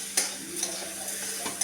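Sweet and sour mango pickle stirred in a pan, a soft sizzle with a few short scraping strokes of a spoon against the metal, close and brief; no talking.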